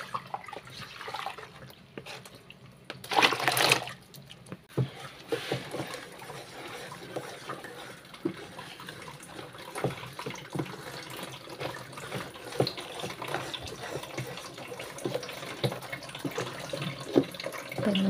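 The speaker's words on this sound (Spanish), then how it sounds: "Voy a enjuagar mi tinita." Tap water runs while a small tub is rinsed, giving a soft, uneven splashing and trickling with a brief louder gush early on, then continuing quietly close by.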